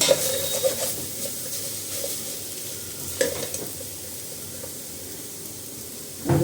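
Organic cucumber sautéing in a pan: a steady, soft sizzle and hiss with occasional sharper stirring scrapes and clinks, close up and without talking.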